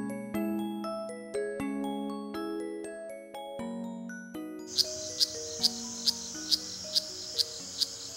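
A Kuroiwa cicada calls in a series of sharp, evenly spaced high chirps that start partway through, following a quiet stretch of soft tonal notes.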